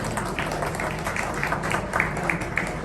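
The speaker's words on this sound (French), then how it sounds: "Vous pouvez applaudir, s'il vous plaît." An audience at a talk about the African diaspora claps steadily for a few seconds, a moderately loud, dense patter of many hands with faint voices underneath.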